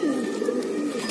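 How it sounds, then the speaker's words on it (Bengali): A red-eyed pigeon in a loft gives a soft, steady, low coo, faint and close, with no other sounds around it. "লাল চোখের মধ্যে সবচেয়ে আমার পছন্দের কবুতর আছে এইটা"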